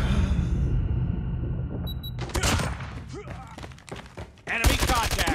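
Sentry gun firing in a Call of Duty match on the Frontline Crossroads Strike map, a run of sharp automatic bursts over game noise, with a computer voice making announcements.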